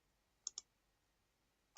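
A computer mouse is right-clicked: three short, crisp clicks in a quiet room, two close together near the start and a third a second later.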